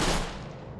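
A pistol fires in Borderlands: The Pre-Sequel, one loud close burst with a long ringing decay that fades over under a second, with no talk.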